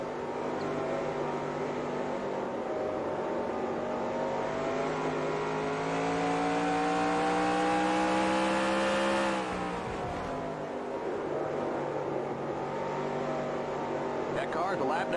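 ARCA stock cars racing in the NASCAR Racing 2003 game, a steady loud engine drone with rising pitch as a car accelerates, then a sudden shift as it passes, continuing as a constant roar throughout.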